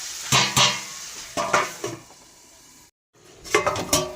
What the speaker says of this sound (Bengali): এই জলটা দিয়ে এবার আমি দিয়ে দেবো কড়াইটা চাপা